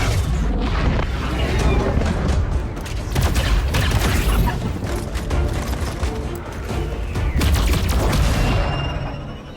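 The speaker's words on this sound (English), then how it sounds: "The mission ends under heavy fire with a quick evac back to base." Heavy gunfire and booming blasts roll continuously through an XCOM 2 combat mission as the squad evacuates under fire. A dense, loud barrage rumbles throughout.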